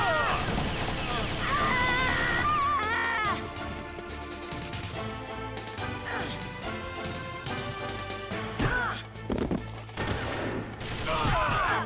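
Gunfire in Final Fantasy XIV, rapid shots and bursts layered into a busy, loud game soundtrack with music and effects throughout, with voices talking over the action.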